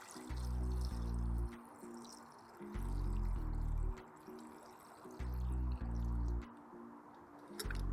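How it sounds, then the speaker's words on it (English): Brine solution glugs in loud repeated bursts as it is poured into a jar of fermenting hot sauce, with short pauses between the pours and no voices. "Fill this up with the brine solution."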